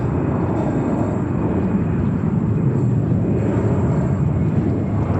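A JetBlue jet departing JFK Airport roars steadily and loudly throughout, a continuous broadband engine rush without speech.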